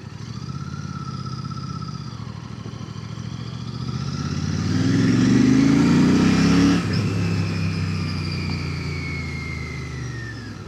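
A Royal Enfield Classic 650 motorcycle with a slightly whiny, belt-like engine note idles close by, revs up to a louder peak, then eases back to a steady idle, heard alone.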